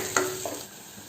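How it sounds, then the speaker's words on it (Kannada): Green chillies and ginger stirred in a hot pan, a short scrape of the spatula and a soft sizzle, then a second quieter stir, close and alone. "ಅದೇ ರೀತಿ ಶುಂಠಿ, ಇದನ್ನು ಹಾಕಿ ಸ್ವಲ್ಪ ಬಾಡಿಸ್ಕೊಳ್ತಾ ಇದ್ದೀನಿ"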